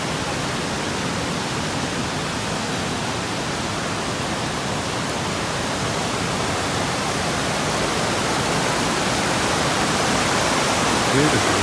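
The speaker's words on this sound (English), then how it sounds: "Waterfall here." Waterfall in the Blindtal valley of southern Switzerland, a steady, full roar of falling water that fills the whole clip at close range, loud and unchanging with no voices over it.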